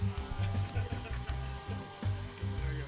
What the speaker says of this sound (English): they're drilling out plates and um, sheets of uh, polycarbonate